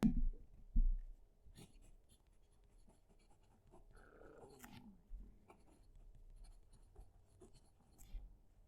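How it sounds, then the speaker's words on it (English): Soft scratching of a fountain pen moving across paper in short strokes, close and quiet, with a couple of low bumps and gaps between strokes. "move the mic closer to the paper so that you can hear the pen writing"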